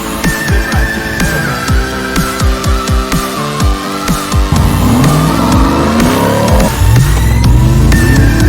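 Ram TRX pickup with a 6.2-liter supercharged Hemi V8: loud, close blips of engine revving in quick succession, then a sustained roaring rev as it climbs and holds.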